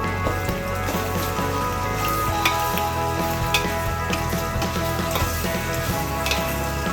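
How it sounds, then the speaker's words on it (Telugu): Macaroni pasta fries steadily in a pan while pasta masala is stirred through, a continuous, close crackling sizzle with soft scraping underneath and no pauses. "ఇప్పుడైతే మనం ఫైనల్గా పాస్తా మసాలా అయితే వేసి కలుపుతున్నాం కొంచెం టేస్ట్ కోసం"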